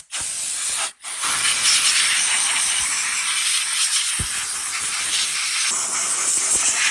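Air blowing down a diaphragm pump head on a farm sprayer that has a pinhole leak: a loud continuous hiss close by, broken by one brief pause near the start, with a faint thump partway through.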